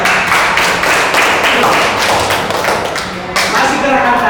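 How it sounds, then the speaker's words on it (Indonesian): A group of people claps hands together on instruction during a classroom movement exercise, a steady dense patter of many claps lasting throughout with a brief dip near the end. "Oke, tepuk tangan."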